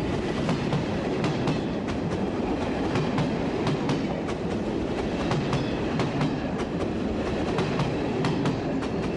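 Long passenger train of UIC coaches rolling past on the Alpes line between Marseille and Grenoble, a loud, steady rumble with continuous rhythmic clickety-clack of wheels over rail joints, close and unbroken throughout, no voices.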